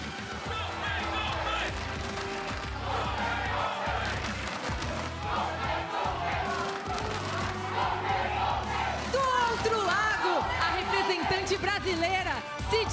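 A Brazilian crowd at an esports arena roars and chants without pause during a 100 Thieves versus PAIN Gaming LTA League of Legends match. It stays loud under an announcer's amplified speech throughout.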